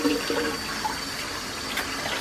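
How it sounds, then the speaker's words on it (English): Tap water runs steadily into a sink while a flathead fish is washed in the kitchen, a continuous close hiss of splashing water with no talk. "We're going to keep washing until the water runs clear."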